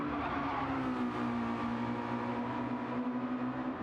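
Touring cars race in Gran Turismo 7, a steady sustained engine drone from one car holding a constant pitch with faint tire noise, fairly quiet and with no talking.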